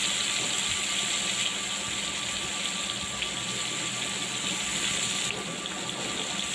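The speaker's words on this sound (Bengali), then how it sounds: "এখানে আমি সবগুলো কই মাছ দিয়ে দিলাম। এখন এটাকে আমি ভেজে নিব।" Koi fish (climbing perch) fry in hot oil in a pan, a dense, loud, steady sizzle and crackle close by that runs without a break and shifts slightly near the end, with no talk over it.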